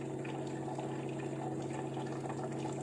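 Hot water poured from a thermos flask into a cup for lemon tea, a steady continuous stream of liquid running for the whole moment, even and unbroken with no voices.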